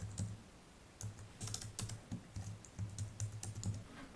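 Fingers tap on a computer keyboard up close, quick bursts of clicking keystrokes separated by short pauses, quiet and alone with no voices.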